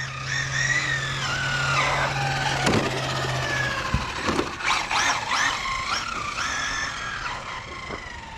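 An HPI Maverick QuantumRX Flux RC rally car running on 4S rips along a street, its high electric motor whine rising and falling through repeated bursts of acceleration, with tire scrubbing and brief knocks, fairly close throughout.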